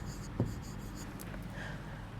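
A teacher writes on a board during a classroom lesson. One brief scratchy stroke stands out early, followed by faint, soft marks against a quiet room.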